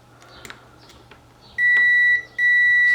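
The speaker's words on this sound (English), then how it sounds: "it's got low resistance and it's beeping." A multimeter set to continuity emits a sustained electronic beep while testing a figure-8 C7 power cord, two steady tones separated by a brief gap after faint clicks of the probes.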